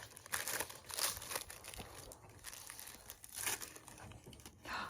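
Crinkly wrapping rustled and pulled off a gift box of gingerbread cookies, a close, continuous crackling with several louder crunchy bursts, no talking.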